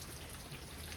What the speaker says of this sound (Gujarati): અત્યારે મેં જોરદાર એક સારું એવું ઝાપટું આવી ગયું.